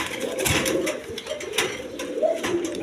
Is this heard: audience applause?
no